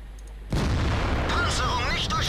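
Tank cannon fire in World of Tanks: a sudden loud boom at about half a second gives way to a sustained rumbling roar with faint whistling tones, heard alone without talk.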